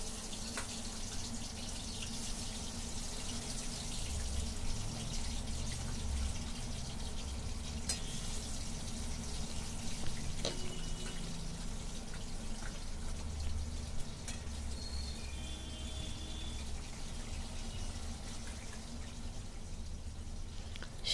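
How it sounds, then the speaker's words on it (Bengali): Hilsa fish pieces fry in hot oil with a constant soft sizzle and crackle, with faint pops and spits scattered over the steady hiss and no voices. "তেল গরম হলে আমি একটা একটা করে মাছগুলো সব ভেজে নেব।"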